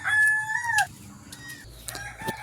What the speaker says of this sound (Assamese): কুকুৰাই দাগ দিছে।